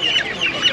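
Chickens cluck in quick, close bursts at a busy poultry market in Taşköprü, Kastamonu, several short calls overlapping one another.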